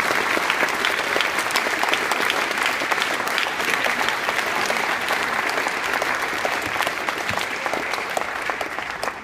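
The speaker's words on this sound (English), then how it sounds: "how about a massive round of applause for our 7th grade recipients?" A school assembly audience gives sustained, loud applause for seventh-grade award recipients, thick continuous clapping that holds steady across the whole stretch.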